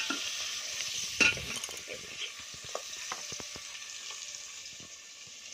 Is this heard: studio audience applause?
no